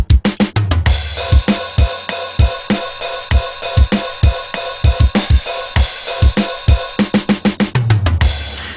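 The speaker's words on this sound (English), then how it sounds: "That's a stock MIDI sound from Guitar Pro." Stock Guitar Pro synthetic MIDI drums play a fast rock beat with rapid kick-drum runs, snare hits and cymbals, loud and mechanically even.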